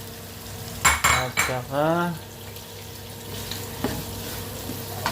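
A spatula scrapes and clanks in a nonstick pot as onion, garlic, carrots and potatoes sauté, with a soft sizzle underneath and a few metallic taps. Someone speaks briefly at the start.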